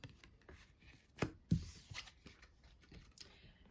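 A deck of tarot cards is cut and handled, giving two sharp soft slaps and brief papery shuffling, close but quiet.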